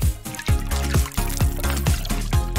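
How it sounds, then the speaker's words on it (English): Water pours into a container in repeated glugging bursts, about five or six pulses with rising pitch as it fills, close and loud, during a dry-erase marker drawing activity. "Add the water and watch what happens."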